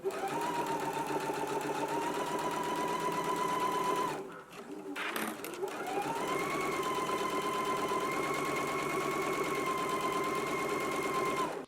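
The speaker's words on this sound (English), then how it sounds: "Let's go ahead and stitch our sleeves in place now." A sewing machine runs steadily while stitching a faux fur sleeve seam, with a brief pause in the middle before the whirring resumes at an even pace.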